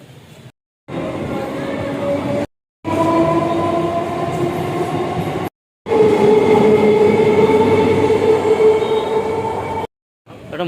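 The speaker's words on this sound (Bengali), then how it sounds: "তোমরা দেখলে না পরপর ট্রেনগুলো চলে গেল" Trains rumble past in a steady, loud roar with rail squeal and clatter, interrupted by brief silent gaps; faint voices sit underneath.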